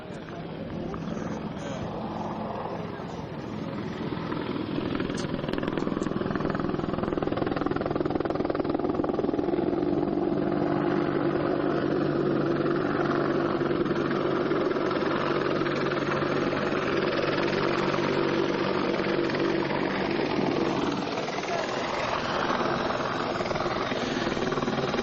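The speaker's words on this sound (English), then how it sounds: "the Apache is coming in to be reloaded" An Apache attack helicopter hovers nearby while coming in to be reloaded with Hellfire anti-tank missiles, its steady rotor and engine roar loud and continuous, with no break from start to finish.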